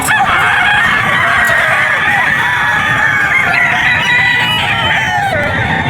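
Roosters crow repeatedly over a steady background of clucking fowl at the Bocaue pet market, loud and close, with overlapping calls filling the whole stretch.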